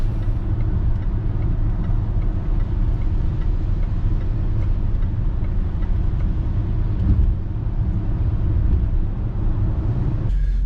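A Range Rover L405 cruising in sixth gear at about 2,500 rpm on a wet road, heard from inside as a steady low engine and road rumble with no pauses.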